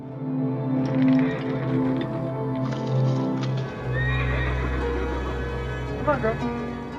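A horse stuck deep in snow neighs and whinnies repeatedly, loud and close, with shuffling, struggling movement and a low rumbling background between calls.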